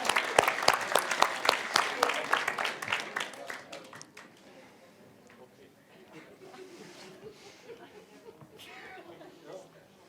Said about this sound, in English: All right, big applause.